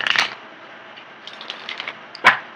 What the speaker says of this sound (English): let me get the cards shuffled here